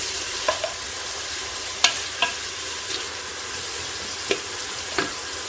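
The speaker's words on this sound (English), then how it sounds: "just fry it a little bit till the onions are soft and succulent." Onions fry gently in a pan as chicken biriyani is made in a pressure cooker, a soft steady sizzle with a few faint clicks and stirring taps, no talking.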